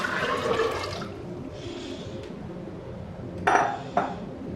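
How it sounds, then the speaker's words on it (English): Water splashes into a metal pressure cooker holding chickpeas with a sustained rushing pour, then a couple of sharp metallic clinks near the end. "Adding the water."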